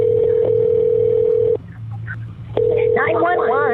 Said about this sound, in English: 911, just ringing.